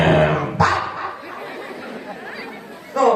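In a comedy sketch, a man imitates a dog with a few gruff barking yelps, a sharp cry near the start and another at the end, over a busy background of chatter.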